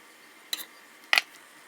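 Two short clinks of a spoon scraping and tapping against a pot while scooping out a big chunk of homemade muscadine jelly, each quick and close, with quiet pauses between.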